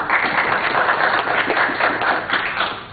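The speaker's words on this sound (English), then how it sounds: "give yourself a round of applause" Steady applause from a seated audience at an agricultural symposium, a dense wash of many hands clapping continuously for the whole stretch without any clear peaks or pauses.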